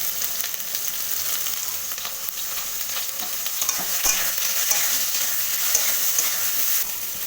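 Eggplant fries in oil in a pan, producing a constant close sizzle broken by light scraping and clicking stirs.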